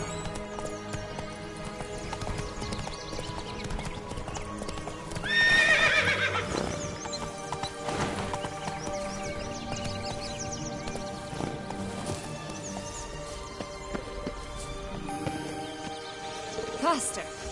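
Geralt's horse gallops in The Witcher 3 Blood and Wine, with rhythmic hoofbeats, a sharp whinny near the start and other game sounds layered in, under some talk.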